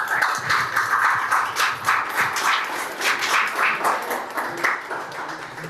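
Applause for Randy Granville at a Special Olympics Aruba event, a moderate crowd clapping in steady, pulsing waves heard at some distance across the whole stretch.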